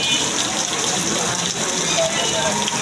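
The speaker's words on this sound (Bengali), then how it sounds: "প্রায় 2 দিন ধরে টানা বৃষ্টির কারণে পুরো ঢাকা শহর অচল হয়ে গেছে" Heavy, continuous rain pours down in Dhaka during a two-day downpour, a dense, loud, steady hiss that stays unbroken throughout.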